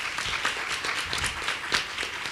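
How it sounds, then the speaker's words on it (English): An audience at a community gathering on democracy applauds itself, a steady wash of clapping from many hands held at a moderate, even level for a couple of seconds, with no one speaking over it. "So give yourselves a round of applause."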